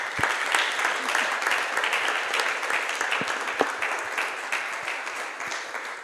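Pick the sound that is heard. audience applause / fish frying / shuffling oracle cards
audience applause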